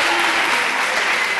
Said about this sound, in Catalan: Fort aplaudiment per tots tres.